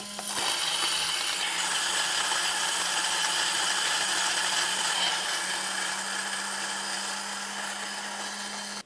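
A CK48 coffee grinder fitted with a rainbow burr grinds very light-roast beans, a steady high whirring drone with gritty crunching that holds for about eight seconds and then stops abruptly.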